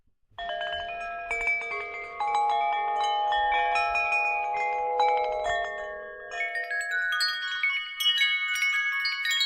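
Shimmering sampled chimes from a Triumph Audio percussion library ring out in layered, sustained tones, shifting to a brighter, higher cluster near the end, sounding lush and reverberant.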